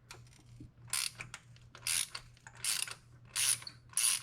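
Ratchet wrench with a 14mm deep socket loosening a spark plug on a 2017-2022 Honda CR-V 1.5L turbo, bursts of rapid clicking pawl ticks repeated about five times, close and clear with short pauses between strokes.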